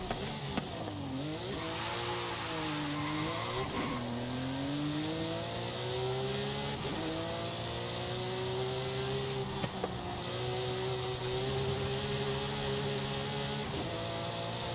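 A Porsche 911 in a racing video game drives and revs, its engine note rising and falling steadily through gear changes across a long continuous run, loud and close, with no talk.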